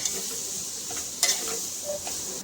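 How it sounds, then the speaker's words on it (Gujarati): Grated beetroot for Gujarati beet halwa roasts in a pan over a low flame, giving a soft, continuous sizzle broken by scraping stirs, one sharper clatter near the middle, and no talk. "જ્યાં સુધી શેકાઈ ન જાય ત્યાં સુધી આપણે એને ધીમા ગેસે શેકવાનું છે"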